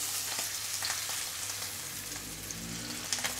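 A beef burger patty sears in a hot pan, giving off a steady, close crackling sizzle with fine popping throughout and no voices.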